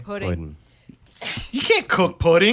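A single sharp sneeze bursts out close by, set among lively conversational talk from people in a casual discussion.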